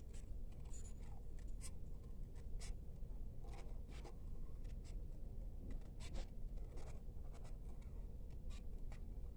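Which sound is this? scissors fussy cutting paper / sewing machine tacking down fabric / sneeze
scissors fussy cutting paper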